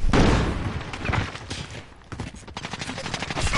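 Shotgun fire in Call of Duty, several loud close blasts in quick succession with a brief lull partway through.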